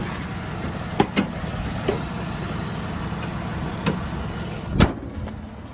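A black 2015 Toyota Sienna Limited van with a 3.5-liter V6 and all-wheel drive being closed up: a few sharp clicks and knocks, then a louder thump near the end, over a low steady background hum.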